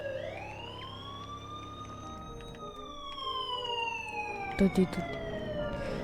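A police siren inside the Squid Game video game wails with a rising and falling tone under a player's voice, with a couple of sharp game effects near the end.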